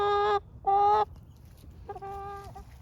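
A hen on a farm gives three loud, harmonic honking clucks, two close together and a softer one after a pause, over quiet outdoor background with no talking.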